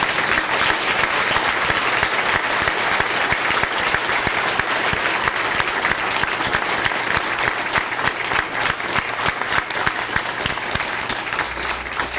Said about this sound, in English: I would like to have all of the students please stand up for one last round of applause.